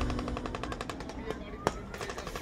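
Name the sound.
gunshot from sniper rifle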